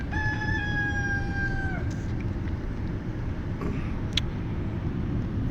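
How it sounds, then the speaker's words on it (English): A mini rooster on a small farm crows once, a loud, nearby, drawn-out cock-a-doodle-doo lasting about two seconds, followed by quieter background noise and a faint click. "There's the mini rooster."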